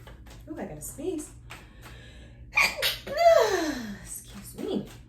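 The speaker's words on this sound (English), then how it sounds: "I gotta sneeze." A single sharp sneeze bursts out mid-sentence, close and fairly loud, with a quick gasping intake beforehand and talk continuing before and after it.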